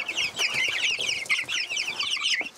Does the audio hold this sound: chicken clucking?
yes